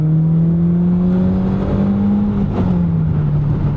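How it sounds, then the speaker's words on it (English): A BMW Z3 pulls hard under spirited driving, its engine drone rising steadily in pitch over nearly four seconds, loud and continuous with a brief shift-like dip partway through and no talk over it. "starting with spirited driving in a Z3"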